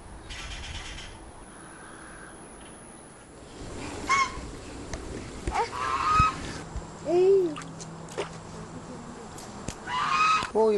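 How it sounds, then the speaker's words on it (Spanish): Geese honk repeatedly in a series of loud, close calls after a quieter stretch of background ambience, the honks coming in irregular bursts toward the end. "¡Uy, los gansos!"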